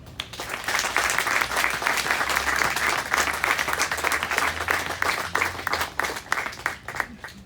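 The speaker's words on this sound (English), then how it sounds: "let's give ourselves a big round of applause" A graduation audience claps continuously, a dense and fairly loud wash of many hands that rises and falls slightly for several seconds before thinning out at the end.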